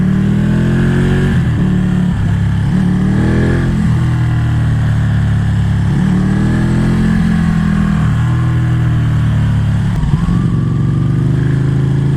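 A liter-class sportbike engine accelerates hard on a public road, close and loud, with repeated rising revs through the gears and brief drops at each shift, carried over steady wind noise.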